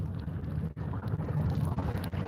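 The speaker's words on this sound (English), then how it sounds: "There's a little bit of a wind now" Gusty wind buffets the microphone with a continuous low, rumbling roar that briefly drops out before surging back.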